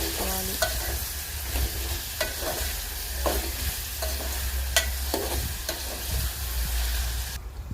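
A spoon stirs drumstick sambar in a pot while it gently sizzles, with repeated scraping and clinking strokes over a steady bubbling hiss, close and continuous.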